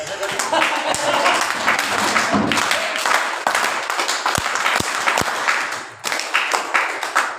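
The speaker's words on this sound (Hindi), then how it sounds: "ज्यादा खुशी होती है ना 3 बार ताली बजाना" A crowd at a Buddhist Dhamma discourse applauds amid a noisy hall, then three sharp, evenly spaced claps ring out together before the clapping fades into murmur.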